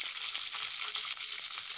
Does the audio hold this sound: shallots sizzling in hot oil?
yes